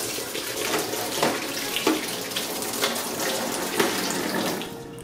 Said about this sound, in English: Just gonna rinse this off